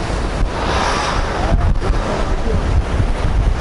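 Steady rushing seawater with a low, rough roar, continuous throughout, churning beneath rocks in a cove at Kıyıköy, Kırklareli; wind buffets the microphone.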